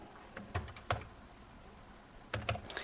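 Keys clatter on a computer keyboard as a code is typed in, a few quick clicks, a pause, then another short burst, close and fairly quiet.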